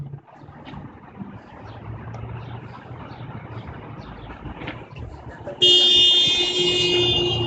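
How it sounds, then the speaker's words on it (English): A loud, sustained car horn blares suddenly near the end, following several seconds of traffic rumble and crowd noise. "They're honking before they've even run into the protests"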